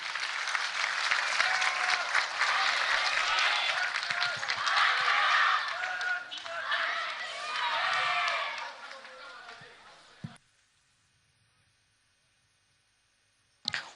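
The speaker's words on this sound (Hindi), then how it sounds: "दिल से सभी जोरदार तालियां एक बार फिर से बजाएंगे।" An audience at an Independence Day function applauds loudly for about ten seconds, dense clapping that fades out abruptly into near silence, followed by a brief thump.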